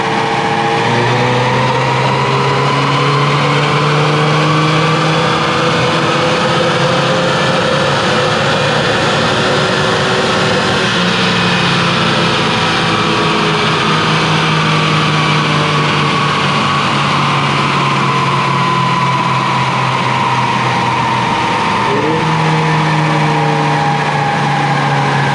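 A turbocharged Ford EcoBoost Mustang engine running hard on a dyno, a loud, sustained drone whose pitch rises and falls through long pulls, close and steady, with no voices.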